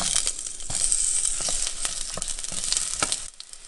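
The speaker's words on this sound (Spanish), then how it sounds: "En una cacerola calentamos un poco de aceite y empezamos por freír la cebolla." Onion frying in hot oil in a saucepan on a stove, a steady bright sizzle with crackling bursts running throughout, close and loud, ending in a brief drop near the finish.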